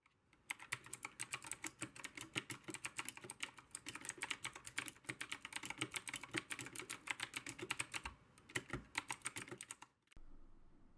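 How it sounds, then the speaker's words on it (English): Rapid, steady clacking of keys on a Redragon mechanical keyboard, close and fairly loud, continuing for about ten seconds before stopping abruptly. "Here I'll demonstrate kind of what it sounds like just typing on this keyboard."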